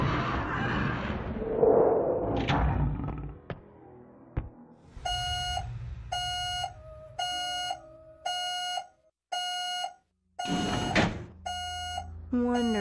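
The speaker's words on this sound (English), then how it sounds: "Now I'm setting off metal detector alarms." A metal detector alarm in the Buffy the Vampire Slayer: Chaos Bleeds video game blares as a series of evenly spaced electronic beeps, loud and repetitive, following some brief game noise and voices at the start.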